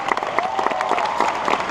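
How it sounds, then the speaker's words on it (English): An audience at a live show claps and applauds, a short dense burst of crowd clapping heard close and fairly loud. "Another big round of applause."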